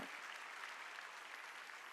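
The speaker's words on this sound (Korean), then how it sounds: "박수죠" A church congregation applauding during a Sunday worship sermon, a faint, even patter of clapping held steadily throughout, heard from a distance.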